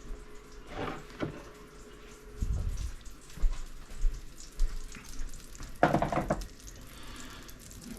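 Pork chops fry in a cast iron skillet, giving soft, faint sizzling with a few louder bursts of spitting and crackling and some low clattering of the pan.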